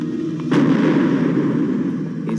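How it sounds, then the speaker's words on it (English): A vehicle blows up in a dramatic action scene, a sudden loud, deep blast that breaks in about half a second in and rolls into a sustained rumbling roar that slowly fades. "This vehicle will now explode."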